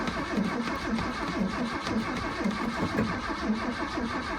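A 1979 Ford F150 pickup's engine runs rough just after a cold start, a steady loud mid-pitched rumble with uneven pulsing, heard up close with no talking.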